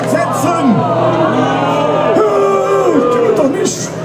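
An audience at the Manderscheid castle festival cries out together in mock horror, a loud, sustained swell of many overlapping voices yelling and whooping with rising and falling pitch.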